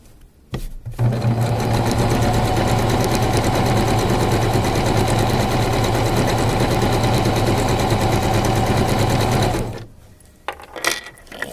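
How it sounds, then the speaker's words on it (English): A sewing machine stitches a pinned fabric seam in one long, steady, loud motor whir with rapid needle clatter, running for about nine seconds before stopping, followed by faint handling noise. "take a nice slow pace so you don't accidentally sew over your pins"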